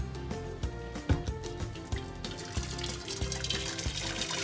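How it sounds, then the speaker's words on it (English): Water pours into the bottom of a food steamer in a steady splashing stream that grows brighter and fuller as it fills, close and continuous with no talking. "we will add about this much water from the bottom of the steamer"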